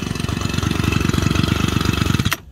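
A small Japanese Robin engine on a used crop sprayer runs close by with a fast, steady, pulsing chug for about two seconds before cutting off abruptly.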